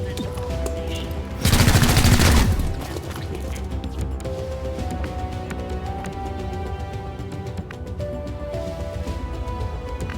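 Gunfire in the tactical video game XCOM: Chimera Squad: a loud burst of rapid shots lasting about a second, followed by a quieter backdrop of game sounds and music.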